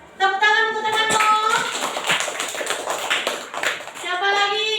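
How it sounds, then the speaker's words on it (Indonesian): A classroom of children claps for a classmate, a brief burst of scattered hand claps mixed with a teacher's voice talking over and around them. "Tepuk tangan untuk temanmu."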